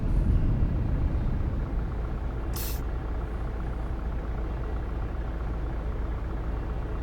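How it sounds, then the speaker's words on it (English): VDL coach engine in the Fernbus Simulator driving game, a heavy low diesel rumble droning steadily close by, with a brief sharp hiss of air release partway through. "because the engine's so close, it's quite nice that you actually hear the engine"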